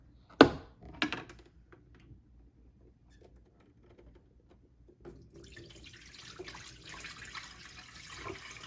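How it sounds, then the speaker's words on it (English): A couple of sharp clicks and knocks, a quiet pause, then dirty water from a Yeedi mop station tank pours out in a steady splashing rush that keeps going to the end. "let's go ahead and empty our dirty water"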